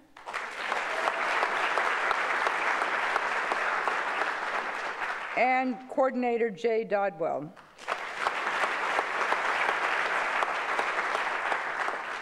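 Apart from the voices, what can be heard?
audience applause for award nominees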